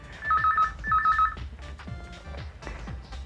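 A telephone rings close by in two short bursts of electronic trills with a pause between them, followed by fainter room noise and soft knocks.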